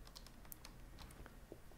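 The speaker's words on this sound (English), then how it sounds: "by hitting Control Shift Escape on the keyboard" Keys are pressed on a computer keyboard, probably the Control, Shift and Escape combination: a handful of faint, irregular plastic clicks and taps against quiet room noise.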